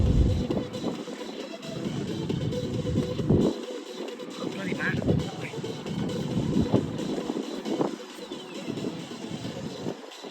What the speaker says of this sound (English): Bloody wind outside.